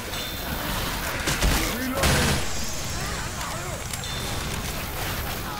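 Gunfire in the video game Left 4 Dead 2, rapid bursts of shots and booms layered over chaotic game noise, with players talking over the action.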